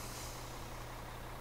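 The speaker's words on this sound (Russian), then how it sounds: "На этом самом грузовике будем проедемся по всем фермам, которые у нас с вами есть" A truck driving in Farming Simulator 2013 gives a steady low engine hum with a broad airy hiss above it, faint and continuous over a brief moment.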